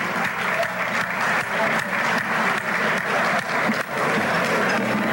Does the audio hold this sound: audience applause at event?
yes